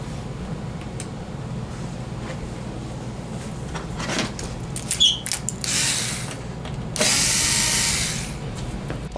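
Screws being driven out of the outer bezel of a TCL 55-inch Roku TV, model 55S401, with a power screwdriver: a few close whirring bursts over a low steady background hum, with no talking.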